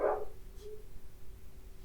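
A dog gives a single short bark at the very start, fairly close, then only faint room noise follows.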